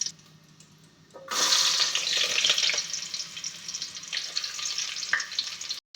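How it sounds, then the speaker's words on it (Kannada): Chopped onion and curry leaves hit hot oil and burst into a loud, bright sizzle after a quiet start. The frying hiss stays steady and close, then cuts off briefly near the end. "ಎಣ್ಣೆ ಸ್ವಲ್ಪ ಕಾದ ನಂತರ ಈರುಳ್ಳಿಯನ್ನು ಕಟ್ ಮಾಡಿ ಇಟ್ಕೊಂಡಂಥ ಈರುಳ್ಳಿ ಮತ್ತು ಏನಿದು ಕರಿಬೇವು ಎಣ್ಣೆಗೆ ಹಾಕ್ಕೋಬೇಕು"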